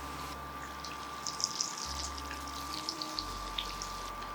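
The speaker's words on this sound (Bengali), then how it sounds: "এবার এতে ঢেলে দিন আগে থেকে করে রাখা বাটা মশলাটি।" Spice paste for a Bengali fish pickle hits hot oil in a pan, giving a steady close-up sizzle with small crackles and pops throughout, no voices.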